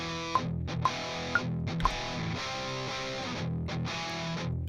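Distorted electric guitar through an amp and B30 cabinet without a Tube Screamer, playing a heavy metal riff with a few sharp accented stabs, dense and sustained, with no voices.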